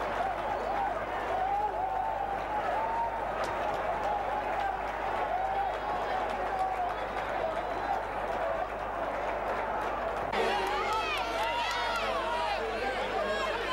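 Football crowd at a 1992 FA Cup tie between Northampton Town and Fulham cheering and applauding a second goal, a steady loud roar of clapping and shouting that swells further near the end.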